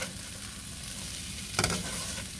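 Spam stirred into potato hash frying in a pan, a soft continuous sizzle with one brief scrape of the spatula partway through, fairly quiet and with no talking.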